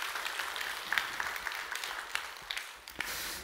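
A church congregation claps together in a hall, scattered hand claps rising into steady applause that fades toward the end.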